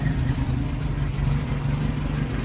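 A Toyota engine fitted in a Datsun, paired with a Toyota transmission, idles steadily close by with a low, even rumble and no talking over it.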